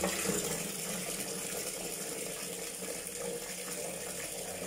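Water running steadily from a tap in a rental unit, a continuous faint hiss and splash with no pauses or voices.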